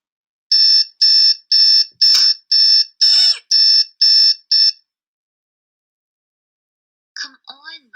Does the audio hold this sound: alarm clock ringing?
yes